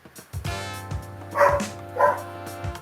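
A pet dog barks twice in quick succession, close and fairly loud, with softer yips and whimpers around the barks over a steady low indoor hum.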